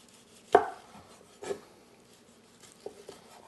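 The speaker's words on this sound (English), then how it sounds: "Peel that breast off. Carve it right off in one piece." A knife carves the breast off a Cantonese-style roast goose, giving two distinct cutting strokes through crisp, thin skin and meat, followed by softer scraping and handling sounds.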